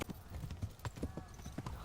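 A horse's hooves clip-clop in Kingdom Come Deliverance as an even run of hollow knocks, about a dozen quick steps at a walking pace, fairly faint.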